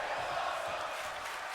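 Wrestling crowd chanting "this is awesome" during a tables match, a broad, roaring wash of many voices sustained evenly and somewhat distant, fairly faint throughout.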